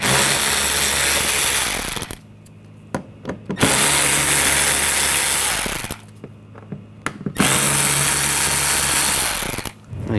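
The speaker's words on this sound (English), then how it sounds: "Use a T20 socket. Take these screws out." A power driver with a T20 socket backs out headlight screws on a 2014-2020 Nissan Rogue, running in three loud, sustained whirring bursts with brief clicks and knocks in the pauses.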